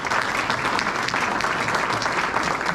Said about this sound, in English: give these guys a round of applause for helping out